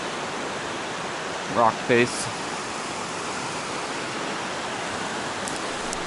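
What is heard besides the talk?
river and waterfall at Laurel Falls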